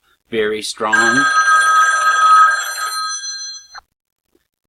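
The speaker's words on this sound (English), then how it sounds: "Sorry about the phone" A telephone bell rings loudly and steadily for about three seconds, then cuts off, right after a brief spoken remark; another short ring-like blip follows.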